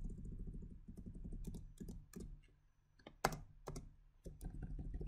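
Code is typed on a computer keyboard in quick irregular bursts of close key clicks, with pauses and a few sharper louder keystrokes, no talking.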